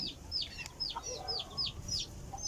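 Backyard chicks peep in quick repeated high chirps, a busy flock of young birds close by with faint background noise.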